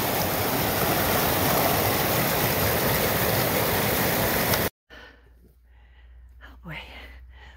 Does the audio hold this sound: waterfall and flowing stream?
yes